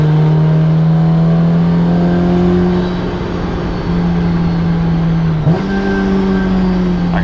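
A supercharged Honda S2000 CR engine drones steadily at high revs during a roll race, a strong tonal whine holding pitch, briefly dipping with a gear change before pulling on loudly, close and continuous.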